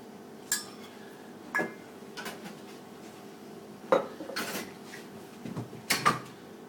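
Dried chamomile flowers are spooned out at a cocktail bar while preparing a Tanqueray No. 10 gin drink, with scattered light clinks and taps of spoon and glassware and soft handling noises between them.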